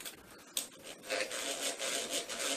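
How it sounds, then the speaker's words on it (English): A hand drill bores into steel, producing a steady, close grinding rasp that rises in intensity after a brief sharp bite. "we're already getting swarf showing that the drill is actually cutting into the steel"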